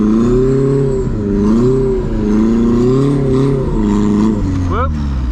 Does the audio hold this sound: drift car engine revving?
yes